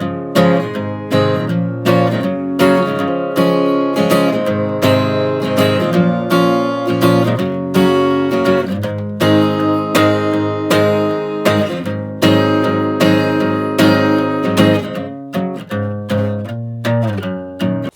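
Strummed guitar chords ring out alone in a steady rhythm, each strum sharp and full, continuing for the whole stretch.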